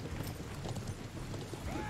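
Horse hooves clip-clopping in the video game Conqueror's Blade, a steady rapid beat of galloping steps under a busy battle soundscape, brief and moderately loud.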